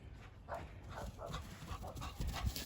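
A dog pants quickly and noisily up close, short breathy puffs in an uneven rhythm with a little rustling underneath.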